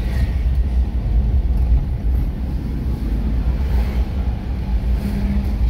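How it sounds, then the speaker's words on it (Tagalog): An overhauled Isuzu 4JX1 diesel engine idles close by with a steady heavy rumble, and a faint higher whine from the turbo rises over it now and then. "Sumisibol yung turbo."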